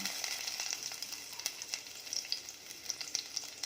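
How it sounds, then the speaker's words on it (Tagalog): Garlic sizzles in hot oil in a casserole pot, a steady close crackle with small pops and light stirring. "Gisa na natin diretso sa kasirola. Lalagyan natin yung bawang,"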